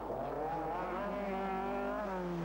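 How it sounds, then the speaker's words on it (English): A BF Goodrich Audi Quattro rally car at speed on a 1983 RAC Rally stage, its engine note rising and falling through gear changes, loud and steady with no talk. "American champion John Buffum with his BF Goodrich Audi Quattro."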